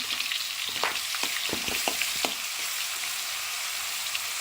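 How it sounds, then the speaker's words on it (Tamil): Onions sizzle and crackle in oil with fenugreek seeds in a pan, a steady hiss broken by a few sharp pops and stirring scrapes, close by. "வெந்தயம் பொரிஞ்சோடனே நாம் எடுத்து வச்சுருக்க வெங்காயத்தை அதில் போட்டுக்கலாம்"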